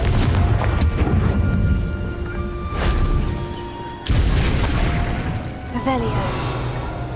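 A Confringo fire spell in the Hogwarts Legacy video game goes off with loud booming blasts and crackling bursts, layered over continuous game music and effects, with speech present throughout.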